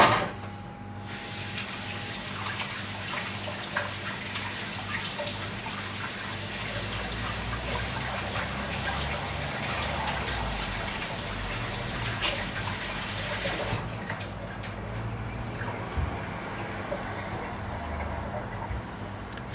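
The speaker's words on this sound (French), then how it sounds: "Je me lave les mains et j'arrive." Tap water pours in a steady, continuous stream as hands are washed in a home kitchen after kneading dough, running for about thirteen seconds before shutting off abruptly, with no talk.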